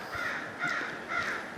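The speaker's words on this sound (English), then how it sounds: "crows, wonder what they're upset about." Crows caw in harsh bursts, three rough calls spaced across the moment, at moderate distance over a steady outdoor background hiss.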